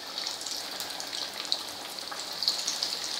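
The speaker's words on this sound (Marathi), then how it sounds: "या वड्या अशा सोडायच्या म्हणजे सगळ्या एकसारख्या वड्या तळून होतात" Kothimbir wadi, coriander fritters, frying in hot oil on a gas stove, a steady close crackling sizzle with scattered pops that runs unbroken throughout.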